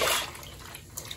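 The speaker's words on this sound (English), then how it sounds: "Oh, splash." Bathwater splashing briefly as toy animals are dropped into a bubble bath, a short wet slosh followed by faint drips.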